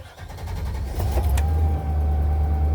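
A vehicle engine turns over and catches, rising into a loud, steady low rumble that holds close by, with no talking.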